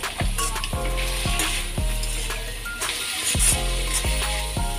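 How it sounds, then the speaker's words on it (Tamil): Vegetables for a potato vegetable sandwich filling sauté with chilli flakes, turmeric and salt in a pan, a steady close sizzle with repeated scraping stir strokes throughout. "இதெல்லாம் சேர்த்து நல்லா வதக்கி விட்டுக்கிறேன் பாருங்கள்."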